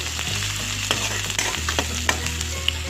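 Ginger and garlic frying in oil with onion for a fish curry, a close steady sizzle broken by sharp stirring clicks and scrapes.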